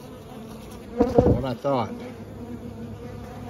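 Honeybees leaving a tree during a trap-out make a steady, close buzzing hum, with a brief spoken remark and a couple of louder passes near the microphone partway through.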